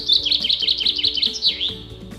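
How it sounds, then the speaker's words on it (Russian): A common chaffinch sings in a forest, a bright run of rapid descending chirps that ends in a flourish, fairly close and clear over quiet background. "Это зяблик."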